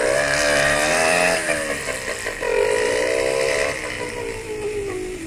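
A Tunisian man vocally imitates a motorcycle engine. His voice mimics a revving, buzzing motor with rising and falling pitch, loud and close, continuing for several seconds.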